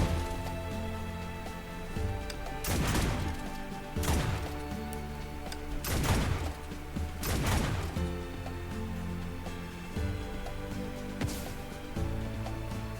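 Gunfire in the action video game Honkai Impact, a handful of sharp, loud blasts spaced a second or two apart over a steady bed of game music.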